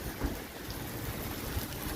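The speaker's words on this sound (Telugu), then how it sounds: "చూడండి ఫ్రెండ్స్, రాత్రి నుంచి ఒకటే వాన ఫుల్గా పడుతున్నది." Heavy rain falls steadily in Kuwait, a dense, even hiss with a low rumble beneath and a couple of faint thuds, fairly quiet and distant with no voices.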